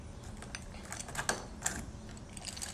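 An old door handle comes off a door after its screws have been removed, giving a few faint clicks and light metallic rattles at a quiet level.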